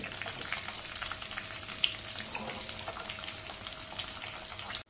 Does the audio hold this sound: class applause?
no